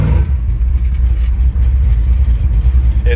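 A carbureted engine in an S-10 street truck runs close and loud, its low rumble stumbling and surging unevenly as the accelerator is touched, with no voices over it.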